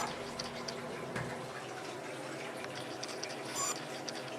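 Water drains slowly from a large sink with soft, quiet trickling and faint gurgles, under a low background hum. A sudden loud knock ends it.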